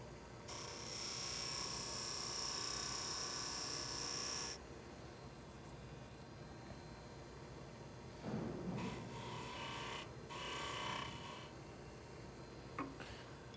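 Parting tool cutting into a spinning wooden cake pedestal on a lathe, a steady hissing scrape lasting several seconds, then shorter bursts of cutting over the faint constant hum of the machine.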